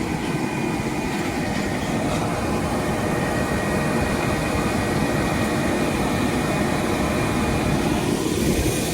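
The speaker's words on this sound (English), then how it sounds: "You can hear the seed going through the tubes, out to the distributors and out to each opener." A 60-foot seed drill pulled by a tractor while planting, seed rushing through the tubes to the distributors and each opener, heard as a steady broadband hiss and rumble of machinery with no talking.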